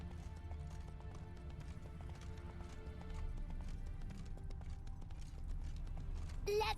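A horse gallops in The Witcher 3: Wild Hunt in the city of Novigrad, a fast continuous patter of hooves over a low rumble, growing slightly louder midway.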